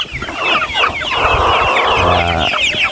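Backyard chickens cluck and chatter loudly at feeding time, several birds calling over one another in a close, busy flurry of overlapping clucks and squawks.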